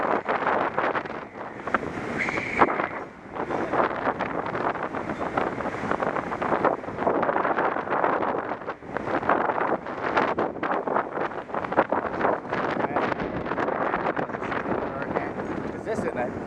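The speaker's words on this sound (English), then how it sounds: "it's windy out here. Real windy." Strong gusts like a passing tropical storm buffet the microphone with loud, rumbling roars that rise and fall continuously, and voices are partly buried under the noise.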